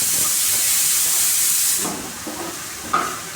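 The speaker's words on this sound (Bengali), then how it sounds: "এই যে একটু ভালো করে কষিয়ে নিচ্ছি" Turmeric-spiced food sizzles in a pan while being sautéed, a steady hissing fry that fades partway through, leaving softer crackles and a brief clink near the end.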